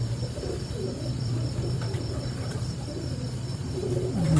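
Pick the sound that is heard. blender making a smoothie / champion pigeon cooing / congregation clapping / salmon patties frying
champion pigeon cooing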